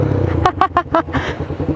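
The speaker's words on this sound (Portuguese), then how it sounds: "quase que morreu a moto, tá acabando a gasolina" A Honda CB300R with a straight-pipe exhaust, close by and nearly running out of fuel, gives a few loud, uneven bursts, then sputters and stumbles in a choppy rhythm.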